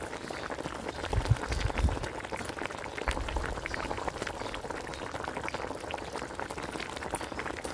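A pot of cabbage curry at a full boil, a continuous soft bubbling and gurgling with a few louder low pops near the start, close by and without speech.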